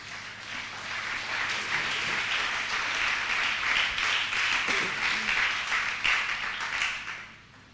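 A church congregation applauds together after a scripture reading, with a sustained, dense roomful of clapping that swells and then fades, some voices mixed faintly into it.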